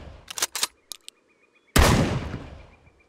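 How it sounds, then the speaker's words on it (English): An RM870 shotgun in a video game, with a few sharp clicks and brief handling sounds, then a pause and a single loud blast that decays over about a second; no voices. "This is the RM870 shotgun"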